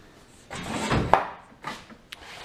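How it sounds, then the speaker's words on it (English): The doors of a Laguna 18bx bandsaw swing open with a few close hollow clunks, a sharp knock and a softer bump as the metal panels move and settle in a quiet workshop. "open the doors"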